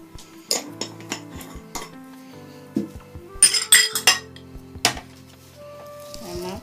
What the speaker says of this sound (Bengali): খুব ভালো করে সব উপকরণ মিশিয়ে নিচ্ছি।